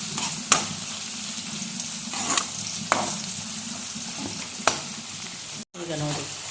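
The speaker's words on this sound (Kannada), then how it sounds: "ಈಗ ಇದನ್ನು ಚೆನ್ನಾಗಿ ಫ್ರೈ ಮಾಡ್ಕೊತೀನಿ" Food frying in a pan with salt as potatoes cook for a potato palya, a steady close sizzle with a few sharp stirring scrapes and clicks, brief pause near the end.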